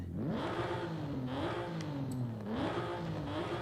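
A cammed twin-turbo Mitsubishi GTO with an upgraded intake and exhaust revs in Forza Horizon 5, its engine note rising and falling through several loud, close blips without speech.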